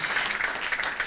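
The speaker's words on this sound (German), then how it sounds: "Ja, das ist ein Applaus wert" A brief burst of dense clapping from a talk show audience, loud and close, lasting only about a second.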